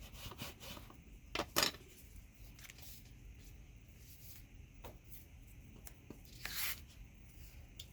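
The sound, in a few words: burnishing glued paper down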